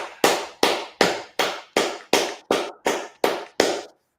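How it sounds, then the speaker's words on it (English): Ten loud, evenly spaced hand claps from a group clapping in unison at a steady slow beat, each with a short ringing decay, ending in silence. "All right, clap it up."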